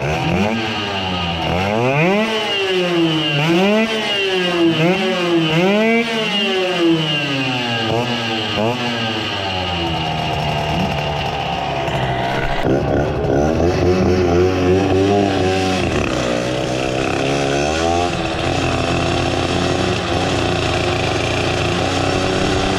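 A tuned Erikois-S 50 racing moped engine at an airfield drag race meet, loud and close, revving up and down in repeated rising and falling sweeps before settling into a steady high whine.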